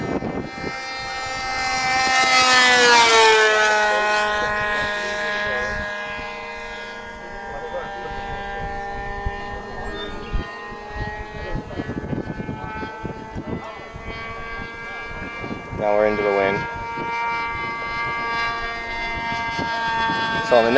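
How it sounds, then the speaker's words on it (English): A modified RC Tower Trainer model airplane makes a full-speed flyby, its engine whine rising in pitch as it approaches and dropping as it passes, then droning on farther out while a person talks. "I'll do another full speed flyby a little further out."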